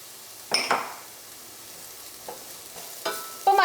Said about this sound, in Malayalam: മഞ്ഞൾപ്പൊടി എണ്ണയിൽ കിടന്ന് നന്നായിട്ട് മുരിഞ്ഞിട്ടുണ്ട്